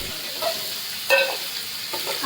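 Pomfret fish frying in hot oil, a continuous bright sizzle and crackle with a sharper spitting burst in the middle and small pops toward the end, close and alone without talk.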